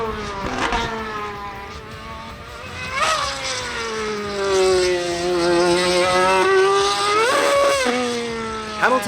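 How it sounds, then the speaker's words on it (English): A high-revving Formula One car engine screams loudly in Barbados, its whine climbing and falling through gear changes and sharp revs, close and continuous with no voices. "let's listen to that engine scream"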